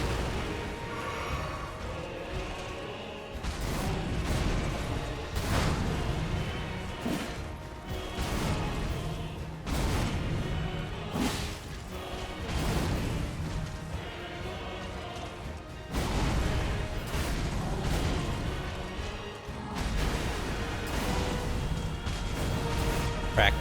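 Repeated booming crashes and impacts from boss-fight explosions in Elden Ring: Shadow of the Erdtree, played on New Game Plus 7, landing every few seconds over a dense, loud, continuous game soundscape with no speech.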